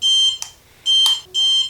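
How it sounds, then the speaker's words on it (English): Electronic flight controller on a homemade coaxial RC aircraft sounding three loud, steady high-pitched beeps in a regular on-off rhythm, each lasting about a third of a second with short gaps between, close to the microphone. "it only beeps, that's the only function it can do"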